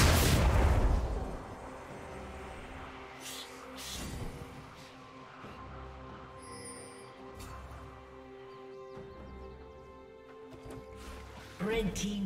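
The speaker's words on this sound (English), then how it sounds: "Red team's turret has been destroyed." A turret being destroyed in League of Legends gives a heavy booming explosion at the start, then a game soundscape of layered tones, rumbles and effects, with a further burst near the end.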